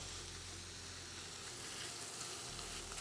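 Beef rouladen sear in a hot pan with a continuous, soft, crackling sizzle that holds steady throughout, alone and fairly faint.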